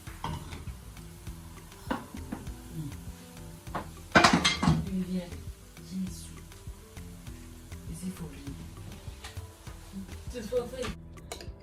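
Cutlery and dishes clinking close by during a Togolese eba meal, with scattered taps and scrapes and one louder clatter, under soft intermittent speech.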